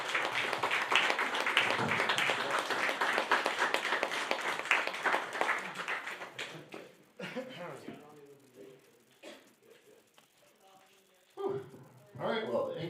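A comedy-night audience applauds amateur comedians with sustained, dense clapping for several seconds that fades out, followed by someone speaking and a short, final burst of applause.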